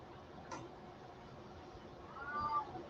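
A cat meows twice, faint and fairly close, a short cry early and a longer rising meow near the end over a quiet indoor background with a soft ticking.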